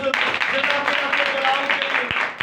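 Applause at a church Sunday meeting: sustained, dense clapping fills the whole stretch, with a steady tonal hum and voices mixed underneath.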